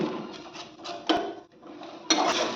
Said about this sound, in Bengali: বাদাম পেস্ট দেওয়ার পর কিছুক্ষণ একসঙ্গে এটা কষিয়ে নেব।